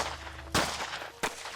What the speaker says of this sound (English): followed by the unmistakable sound of gunshots